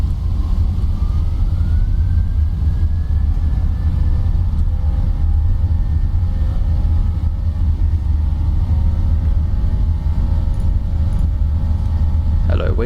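Boeing 737 jet engines in the Prepar3D flight simulator spooling up toward takeoff thrust, a loud constant rumble with a rising whine settling into steady tones, heard alone without voices.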